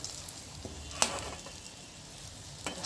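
Ivy gourd (kundri) slices frying in oil give a faint, soft sizzle with a few brief clinks and a sharper scrape near the middle, quiet and close.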